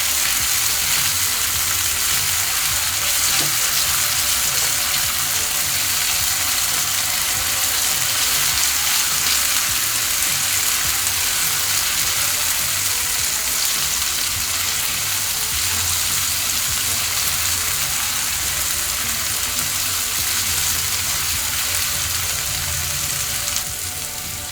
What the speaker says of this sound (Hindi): अब हम इसमें 1 टीस्पून भरकर अदरक लहसुन का पेस्ट ऐड कर लेंगे। इसे भी हमें 1 मिनट तक के अच्छे से भून लेना है।